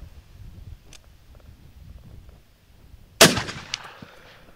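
A single sharp gunshot from a BCA 8.6 Blackout AR upper cracks out loud and close after a quiet outdoor stretch, followed by a brief ringing echo and a faint metallic knock.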